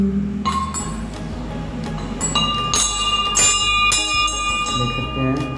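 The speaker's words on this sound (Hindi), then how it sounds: "ये लगा है घंटा" A temple bell at a Hanuman temple in Janakpur rings out in repeated loud metallic strikes with long shimmering overtones, heard close up over a busy crowd.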